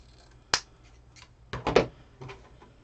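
Scissors snipping through ribbon to cut a dovetail end for a quick fall bow: a sharp snip, then a short cluster of two or three close snips about a second later, near and fairly quiet.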